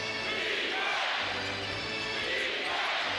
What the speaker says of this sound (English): The crowd starting to roar.